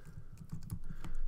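Keystrokes on a computer keyboard while entering text in Photoshop, a quick uneven run of close, crisp clicks that grows slightly louder toward the end, with no talking.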